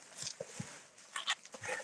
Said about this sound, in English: A very, very small dog.